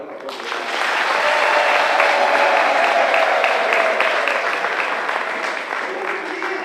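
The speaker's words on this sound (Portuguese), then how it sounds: "Mais um aplauso para todos." Sustained applause from an audience at a pastor's graduation ceremony, a dense steady wash of clapping that swells and holds for several seconds, with a faint voice briefly audible beneath it.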